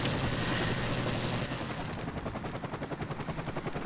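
Attack helicopter killstreak in Call of Duty Modern Warfare Remastered on the Bog map: dense gunfire and explosions give way to a steady, pulsing rotor chop with engine drone, loud and continuous throughout.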